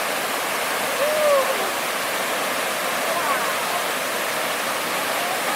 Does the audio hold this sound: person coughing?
no